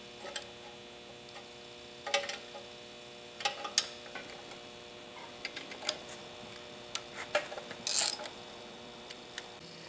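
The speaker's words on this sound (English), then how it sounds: "as I assemble the gears" Metal gears being fitted on a South Bend metal shaper during restoration, heard as scattered sharp clinks and ticks of steel parts, faint and close over a quiet steady room hum, with no talking.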